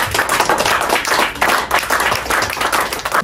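A church congregation claps and cheers for the Lord during a sermon, dense rhythmic applause filling the room loudly and continuously.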